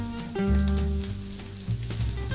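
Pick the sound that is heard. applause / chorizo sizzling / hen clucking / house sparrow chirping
chorizo sizzling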